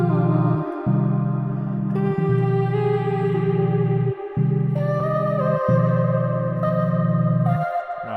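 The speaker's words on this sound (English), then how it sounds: "Now the Ableton reverb doesn't sound that good." A sustained synth melody heavily washed in Ableton Live reverb, with notes trailing and echoing into each other over a repeating low bass tone.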